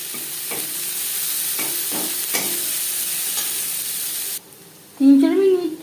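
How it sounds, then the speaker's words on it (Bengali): Chopped onions fry in oil in a wok with a strong, even hiss and occasional spatula scrapes, then the sizzle cuts off abruptly and a voice starts speaking. "তিন চার মিনিট পেঁয়াজ ভেজে নেওয়ার পর"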